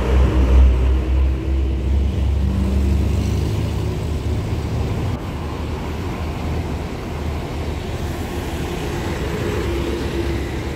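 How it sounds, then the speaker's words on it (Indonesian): Palala E05 bus pulling out of a parking lot, a loud low diesel engine rumble strongest at the start and then settling into a steady drone as the vehicle moves off. "Satu unit lagi Palala E05 juga bersiap meninggalkan parkir Omega melanjutkan perjalanan."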